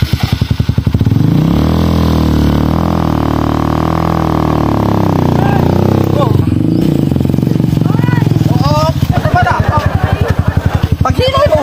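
A motorcycle engine runs loud and close, holding a steady throbbing drone that shifts slightly in pitch, with voices talking over it toward the end.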